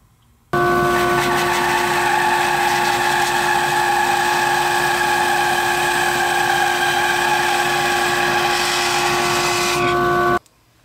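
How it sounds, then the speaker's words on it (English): A bandsaw starts up abruptly, then whines at a steady, loud, high pitch for about ten seconds while cutting a chunk of wood off a workpiece for a playing card gift box, then cuts off sharply. "let's head over to the bandsaw and get that chunk cut off of this"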